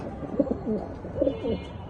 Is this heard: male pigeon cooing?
yes